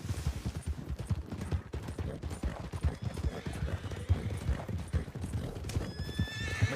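Horse hooves clip-clop steadily in a video game, close and loud throughout, with a horse whinnying near the end.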